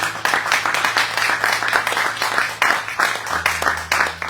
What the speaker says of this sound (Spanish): Démosle un aplauso a mi Dios.